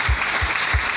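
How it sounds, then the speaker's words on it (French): A church congregation claps for the Lord in dense, steady applause with a few rhythmic low thumps, loud and close, with no voices heard. "Est-ce qu'on peut acclamer le Seigneur?"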